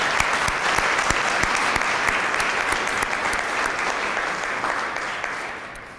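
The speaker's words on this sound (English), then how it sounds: "can we give him another round of applause?" Steady round of applause from a gathered crowd at a welcome reception in Milwaukee City Hall, dense clapping at a consistent loudness that eases off slightly toward the end.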